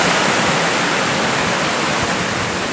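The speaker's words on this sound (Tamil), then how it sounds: "இதுதான் இந்த குதிரைப்பாஞ்சவனோட தண்ணி வர இடம்." Water pours steadily over the Kuthirai Paanjan waterfall near Panakudi, a loud, continuous rushing roar with no pauses or other sounds.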